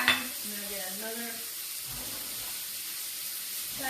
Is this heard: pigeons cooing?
no